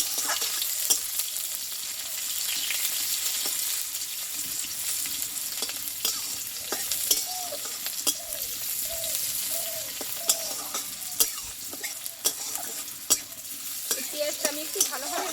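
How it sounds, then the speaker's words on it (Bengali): Chopped onion fries in a pan for a dudh kochu stem curry, with a continuous close sizzle and frequent scraping and tapping of a stirring spoon throughout. "এই পেঁয়াজটা আমি একটু ভালোভাবে ভেজে নেবো আগে"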